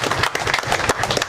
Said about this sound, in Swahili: Let us clap our hands for him.